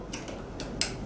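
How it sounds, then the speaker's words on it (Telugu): A VVPAT unit being connected to an EVM control unit gives a few quiet, crisp ticks, about four short clicks spaced unevenly over roughly a second against a low background hum. "ఇది కూడా టిక్ అనే శబ్దం అనేది మీరు గమనించాలి"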